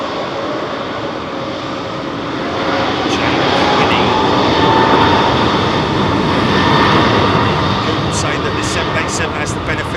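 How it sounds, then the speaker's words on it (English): A Middle East Airlines airliner in up-to-date livery takes off at London Heathrow, its engine roar swelling loud and steady, peaking midway and holding near, with a faint voice underneath. "Either way, we're going to get a beautiful aeroplane, folks."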